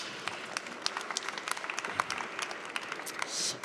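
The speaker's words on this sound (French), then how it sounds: "Vous pouvez applaudir si vous voulez." Audience applause after a talk on bio-based building materials, a thin, fairly faint patter of scattered hands clapping at an uneven pace, with no voices.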